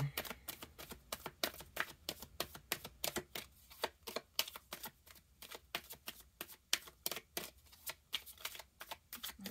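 Tarot cards are shuffled continuously in rapid riffling bursts, crisp and close, with a steady rhythmic flutter and no talking.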